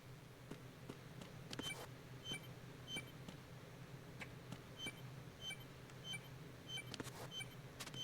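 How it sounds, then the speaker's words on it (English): Repeated electronic beeps in Metal Gear Solid 2: Sons of Liberty HD Edition on PS3, faint, irregular short chirps spread across the stretch over low background game ambience. "What's that beeping noise?"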